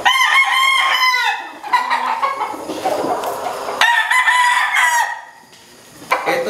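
A gamecock rooster crows loudly several times in succession, with clucking and other chickens audible nearby between the calls.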